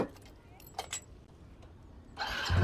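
After a quiet stretch with a couple of brief clinks and faint voices, a vehicle's engine turns over and starts near the end, rising into a loud, close rumble.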